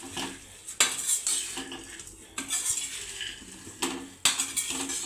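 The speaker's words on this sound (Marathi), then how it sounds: "आता मिक्स करून घ्यायचं आहे" Fried peanuts, coconut and chana dal are mixed in a pan for Kolhapuri bhadang, with a spoon clanking and scraping against the metal in irregular strokes over a faint sizzle, close and alone.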